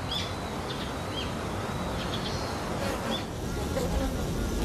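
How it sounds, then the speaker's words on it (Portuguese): A dense, continuous drone of a honeybee colony buzzing fills the space, with a few high bird chirps breaking through above it. "Dentro da colmeia, a colônia inteira começa a criar uma onda de som."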